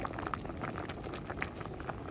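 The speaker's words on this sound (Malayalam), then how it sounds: "നമ്മുടെ ഇട്ട വെജിറ്റബിളൊക്കെ ഒന്ന് തിളച്ച് വന്നിട്ടുണ്ട്." Vegetables for a Kerala sadya sambar bubbling in a pot, a steady soft simmer with scattered faint pops and clicks, close and continuous without talk.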